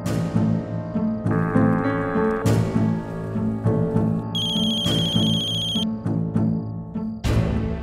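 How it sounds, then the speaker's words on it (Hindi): A telephone rings in repeated electronic bursts, loud and close, with brief gaps between rings and no voices. "इन्होंने इस वक्त क्यों फोन किया होगा?"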